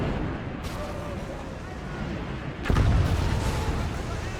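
Artillery shells land during urban fighting in the Call to Arms Gates of Hell Ostfront video game, a rumbling battlefield backdrop broken by one loud, deep impact blast partway through, with a voice talking over it.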